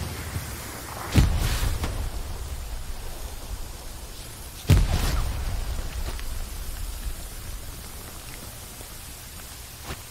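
Two heavy artillery blasts thud in the Hell Let Loose battlefield, one near the start and another a few seconds later, each a deep booming impact that tails off into a steady noisy rumble of ambient combat.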